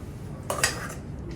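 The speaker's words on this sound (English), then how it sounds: "So now we're going to add the strawberry puree to the cream." Strawberry puree being added to and stirred into sweetened cream, with a brief clink and scrape of a utensil against a bowl in the middle of an otherwise quiet moment.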